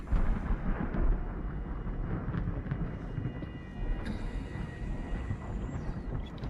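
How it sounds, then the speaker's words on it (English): Deep, rolling thunder rumbles steadily through a space station setting in the sci-fi horror game SOMA, a loud, sustained low roar with a brief swell near the start and a faint high tonal whine appearing partway through, no voices present. "thunder sound effects"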